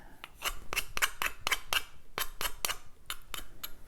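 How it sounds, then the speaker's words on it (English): A series of short, sharp scraping strokes of a card scraper on wood, each a crisp rasping swipe, repeated irregularly with brief pauses between. "Pick up my card scraper, which is perfect for knocking off the fuzz."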